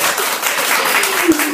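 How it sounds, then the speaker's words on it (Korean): Warm applause from an audience at a poetry reading event, dense clapping throughout with a faint voice and a small thump near the end. "여러분 박수 좀 뜨겁게 한번 쳐주세요."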